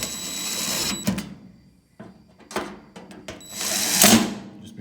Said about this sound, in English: Be careful when you use an impact driver not to over tighten